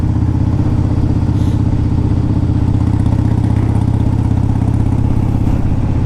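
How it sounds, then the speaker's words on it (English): A 2002 Harley-Davidson Dyna Wide Glide idles steadily up close, its loud, low, lumpy engine throb continuous throughout with no talk. "you fire it up, you put the choke in, it's idling fine"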